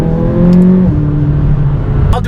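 A Chevrolet Corvette Z06 accelerates hard, heard loud from inside the car as the engine note climbs, drops briefly at a shift, then builds again.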